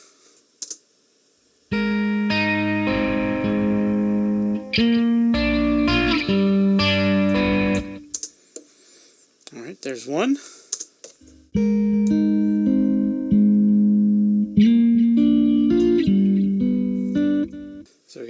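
Two freshly recorded electric guitar tracks play back in a recording session, with distorted, chorus-tinged chords and sustained notes in loud bursts separated by short gaps and a brief warbling swell in the middle; a voice speaks briefly near the end.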